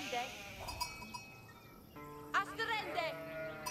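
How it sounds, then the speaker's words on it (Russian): Sheep bleat a few times in Age of Empires 4 gameplay, short game-sound calls set against soft background game audio. "Ох, нихера тут овец."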